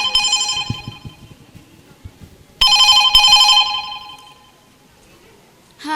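Telephone ringing as a mother calls her son, a bright electronic ring sounding in two bursts separated by a pause, loud and near, with faint background rustle between.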